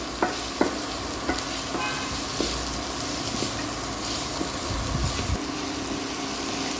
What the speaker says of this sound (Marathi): आता कांदा पण शिजवून घ्यायचा आहे